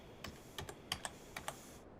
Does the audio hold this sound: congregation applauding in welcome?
no